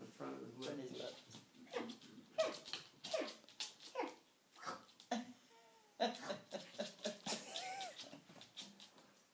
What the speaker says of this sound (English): My dog Clyde talks to me every day. It's like this.